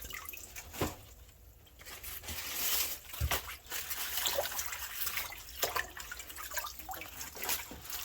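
Mustard greens are rinsed in a basin of water: soft drips, trickles and gentle sloshing carry on quietly throughout, with occasional small splashes close by.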